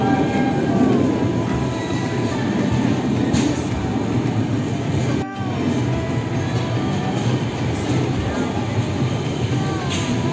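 The Vivek Express from Bandra Terminus pulls into Ahmedabad railway station, heard from on board as a loud, steady rolling rumble and rattle of the coaches that holds without a break, with one brief dip midway.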